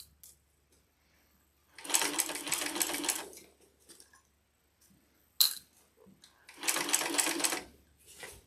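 A King Max industrial sewing machine stitches a shoulder bag in two loud bursts of rapid mechanical whirring about a second long each, separated by quiet handling and a sharp metallic click.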